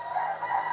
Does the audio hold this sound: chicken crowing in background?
yes